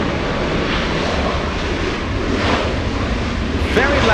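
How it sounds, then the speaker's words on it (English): A Southwest Airlines jet arrives at LAX with a loud, broad, steady roar of engine and rushing air that fills the whole clip, mixed with wind buffeting on the microphone. "Very loud Southwest, arriving in front of us."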